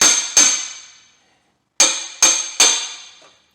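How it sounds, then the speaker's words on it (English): Sledgehammer blows drive a Condor bushing into a BMW M3 rear subframe: one sharp metallic strike, then after a pause three more in quick succession, each loud and close with a ringing decay. "come in here with your sledgehammer"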